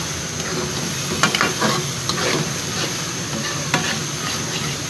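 Carrot halwa with malai roasts in a pan, a loud continuous sizzle beneath steady stirring, with a few scraping knocks of the spoon against the metal.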